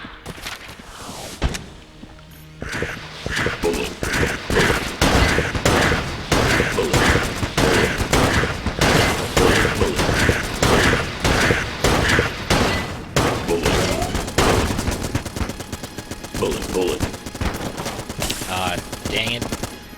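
The Gatling gun boss in The Gungeon lets loose rapid, relentless bursts of rattling gunfire, loud and nearly continuous, with a voice talking intermittently over the shooting.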